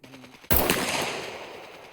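A loud burst of gunfire in a zombie video game, a sudden sharp shot followed by ringing reverberation that fades out, with faint game sounds before it.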